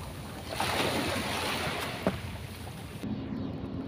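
Sea waves wash around a small fishing boat out on open water, a steady rushing swash with wind noise and a few soft knocks against the hull, fairly faint and with no talking.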